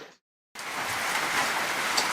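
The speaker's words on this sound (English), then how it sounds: "It's a grey and rainy day in Ailuk Atoll." Steady rain falls on a grey day at an anchorage in Ailuk Atoll lagoon in the Marshall Islands, a dense even hiss after a brief silent gap, with no voices.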